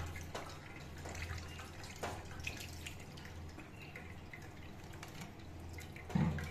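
Cold water runs and drips while freshly made chhana (cottage cheese) is rinsed and left to drain, a steady soft trickle with scattered drips at close range and no talk.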